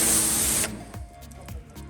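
A pressure washer sprays water across car paint with a loud, close hiss that cuts off after about half a second, leaving quiet mechanical ticks behind.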